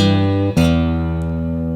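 Guitar in open E tuning ringing out sustained blues chords, loud and close, with a brief sharp pluck or strum partway through as a new chord sounds and holds.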